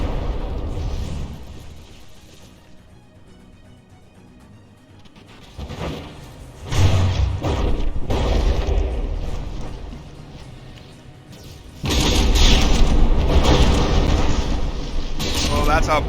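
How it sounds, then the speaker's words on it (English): Battleship cannons in the naval combat game From the Depths fire a barrage of shells, with heavy rumbling booms and explosions that swell in loud waves over a steady low roar of battle. "Claymore firing an immediate barrage."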